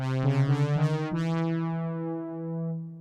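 A buzzy analog lap synth plays a few quick pulsing notes, then settles into a long held tone that slowly fades.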